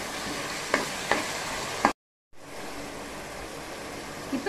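Onions and tomatoes sauté in a pan for sambar, giving a steady low frying sizzle with a few sharp clinks of stirring before a brief cut to silence, after which the soft sizzle resumes.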